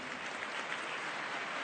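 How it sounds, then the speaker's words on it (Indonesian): Audience clapping for Dahlan Iskan at an Indonesian talk show, a dense, even patter of many hands held steady and moderately loud throughout. "Jadi boleh tepuk tangan buat Pak Dahlan Iskan."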